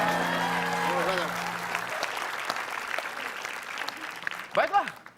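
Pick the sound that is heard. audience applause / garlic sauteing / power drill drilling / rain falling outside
audience applause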